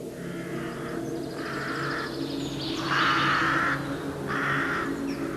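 Three loud crow caws in separate bursts, with a fourth caw rising late, over a steady low background rumble.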